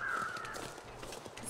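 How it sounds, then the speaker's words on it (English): Crows caw in the snowy wilderness of the survival video game The Long Dark, one drawn-out harsh call up front followed by fainter calls, quiet and distant against soft ambient wind. "Hope those crows are just circling that one thing nearby."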